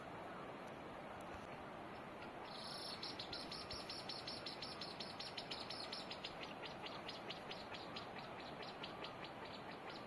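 Small birds chirp in a quick, repeated series of bright tweets partway through, over a steady outdoor rumble, with possible soft wing flaps; the calls sound moderately distant.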